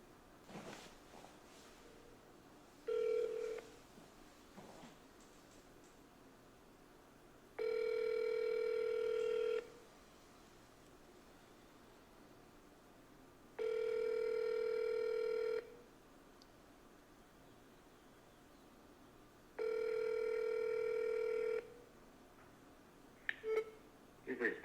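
Outbound phone rings repeat on a cold call: three long steady ringback tones, each about two seconds with gaps of about four seconds, preceded by a short tone, heard close over a quiet line with faint low background.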